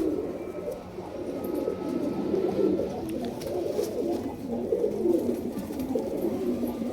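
Several pigeons coo steadily in a low, murmuring chorus, close by and fairly soft, a layered rolling burble with no talk over it.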